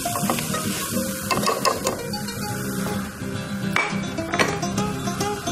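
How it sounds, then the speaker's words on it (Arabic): Fresh mushrooms being stirred in a pan with onion and garlic, frying at a loud steady sizzle with scraping spoon strokes and clatter throughout, close up and without talk. "هلأ بنحط الفطر الطازة، بنحركه مع البصل ومع الثوم"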